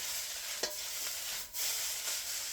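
Fried rice sizzles steadily in a hot pan, with a sharp scrape or toss near the middle as it is flipped and a brief surge of frying after; close and continuous, no talk.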